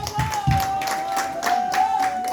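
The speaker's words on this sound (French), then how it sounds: "Une fois de plus applaudissez s'il vous plaît." Applause from the audience at a public meeting, a dense patter of clapping with a few louder claps, a steady tone sounding through it and no speech.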